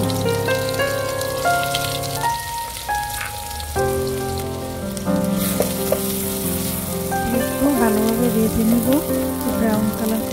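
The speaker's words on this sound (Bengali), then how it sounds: "দিয়ে দিলাম কিছুটা পেঁয়াজ কুচি, দিয়েছি পরিমাণ রসুন কুচি।" Chopped onion and garlic fry in about two tablespoons of hot cooking oil for curry-leaf dal, a steady close sizzle and crackle running throughout, with a brief dip in the middle and faint background tones.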